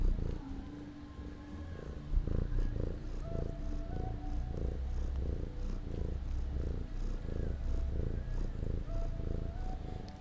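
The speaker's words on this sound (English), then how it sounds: "Let me know if you can hear the purrs." A close, loud purr from Chloe the cat rumbles continuously with a steady in-and-out breathing rhythm, heard alone without talk.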